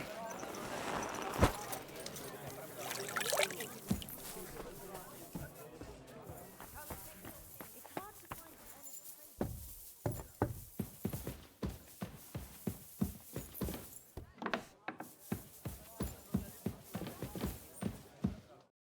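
Rhythmic horse hoofbeats clop steadily at a trot in the video game Kingdom Come: Deliverance 2, growing more distinct in the second half, with brief voices heard early on.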